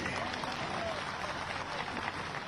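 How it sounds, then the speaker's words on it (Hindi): A crowd at a political rally with Madhya Pradesh Chief Minister Shivraj Singh Chauhan applauds to welcome a guest: a continuous, rushing roar of many hands, steady and moderately loud throughout. "आज सबसे पहले नत्थू कौल जी का तालियां बजा के आप स्वागत कीजिए"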